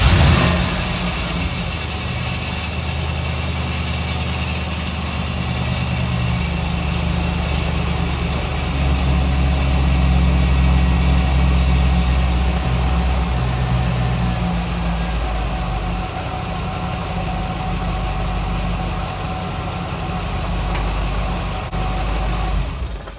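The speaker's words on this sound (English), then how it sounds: "I'm going to start up the engine" An LS-swapped engine in an older car wired to a factory Chevy Impala harness fires up and settles into a steady idle with a low rumble that lasts over twenty seconds. It is close and loud, and no one talks.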